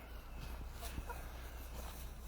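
Chickens in a backyard coop clucking softly at a moderate distance, scattered short calls over a steady low hum, with faint footstep-like rustling and no clear speech.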